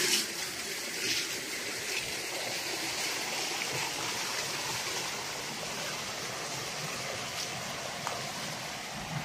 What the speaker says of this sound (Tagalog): So itong tubig na to ay sa irrigation. Papunta ito sa palayan.